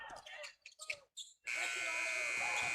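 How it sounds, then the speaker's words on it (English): A voice speaks in quick bursts, then a loud, sustained electronic buzzer blares steadily for over a second over crowd noise. "And Morris with a buzzer beater."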